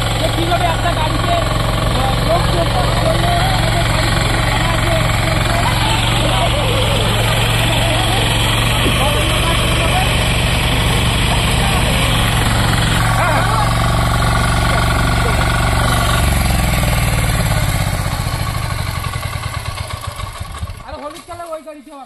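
Engine of a small farm tilling vehicle with a 3.5-litre tank chugging loudly and steadily nearby, then dropping in pitch and dying away near the end, while someone talks throughout.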